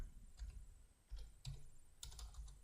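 Computer keyboard typing a line of Python code, a handful of separate, close keystrokes and short clusters at an uneven pace, quiet with no talking.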